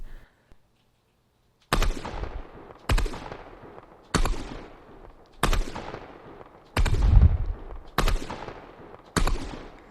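Gunfire in the video game Call of Duty Cold War: loud, sharp single shots, six or seven spaced about a second apart after a brief near-silent start, each with a short decaying tail.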